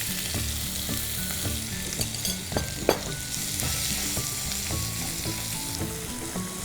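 Garlic and onions fry in a pan with cumin seeds, giving a steady close sizzle broken by scraping stirs and one sharp clatter near the middle, with no talking.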